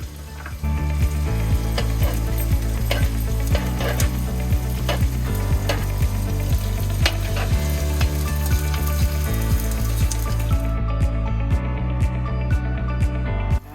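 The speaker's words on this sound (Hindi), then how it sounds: "मैं इसमें थोड़ा थोड़ा करके सबसे पहले गोंद भूनती हूँ" Edible gum (gond) frying in hot ghee gives a loud, steady sizzle and crackle, with irregular scraping and stirring clatter from a utensil in the pan running throughout.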